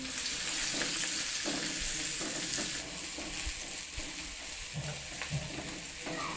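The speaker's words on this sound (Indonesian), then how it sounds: "Tumis bawang merah dan bawang putih hingga layu dan aromanya harum." Shallots and garlic sauté in used frying oil with a continuous close sizzle and occasional stirring. The sizzle eases slightly partway through, and there is no talking.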